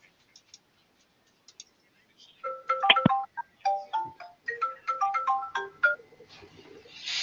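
A phone ringtone goes off during an online directors' webinar call, a quick melodic pattern of bright repeated tones that starts after a few soft clicks and keeps ringing loud and close, with no one talking over it.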